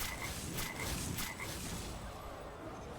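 Frogs croaking in the card game Hearthstone Battlegrounds, several short croaks in a row followed by game sound effects, with no talking.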